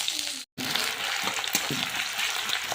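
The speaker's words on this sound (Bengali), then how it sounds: "এই যে পেঁয়াজটা ভেজে নেবো ভালো করে" Chopped onion frying in hot mustard oil with nigella seeds in a pan, a dense, continuous sizzle with occasional stirring clicks, broken by one brief silent gap.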